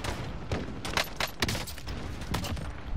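Sniper rifle shots and surrounding gunfire in the video game Call of Duty: Modern Warfare, several sharp bursts and booms in quick succession amid busy battle noise.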